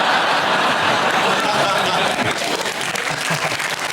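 Studio audience applauding on a British comedy panel show, a dense, steady wash of clapping with scattered laughter mixed in, loud and sustained throughout.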